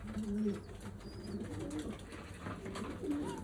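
Soft, low cooing from several pigeons repeats over a steady background hum, close and continuous, with no talking.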